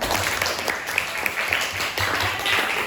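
A group claps along in a classroom teaching session, steady applause with a few cheers over it, fairly close and lively.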